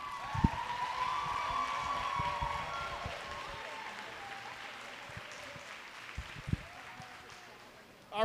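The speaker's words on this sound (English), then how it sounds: "if we can get one more round of applause for all of our seniors for both McKeesport and Gateway" A gym crowd at a girls' volleyball senior night gives a steady, sustained round of applause for the seniors of both teams, with a voice speaking over the top and a few sharper claps and thumps near the end.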